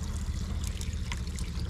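Water overflowing and trickling in a steady, continuous flow from a fresh-water spring outdoors in Laak, Davao de Oro, close and fairly loud with no voices.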